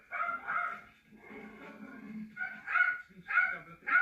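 A dog barks in a house, sharp yapping bursts in short groups that alternate with lower whimpering and growly noises, fairly close but not loud.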